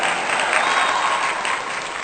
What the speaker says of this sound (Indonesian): Tepuk tangan buat warga Geladak Caridan.